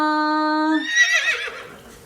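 A mare neighs once at a farm, a close and loud whinny that rises and then breaks into a shaky, trailing fade over about two seconds.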